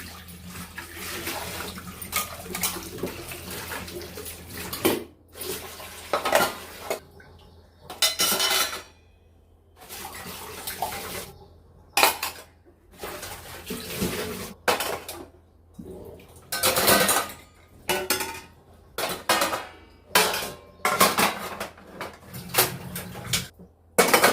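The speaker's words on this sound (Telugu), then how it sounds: "గిన్నెలు కడగడం అంతా అయిన తర్వాత" Dishes, pots and pans scrubbed and rinsed at a kitchen sink under running tap water, with repeated clanks and splashing in uneven bursts separated by short pauses, close and with no voices.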